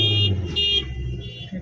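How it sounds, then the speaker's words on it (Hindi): A car's horn sounds during a driving lesson on an Indian road, two loud, close, steady blasts in quick succession with a short gap, then fading traffic rumble. "हॉर्न देके बढ़ाइए रेस"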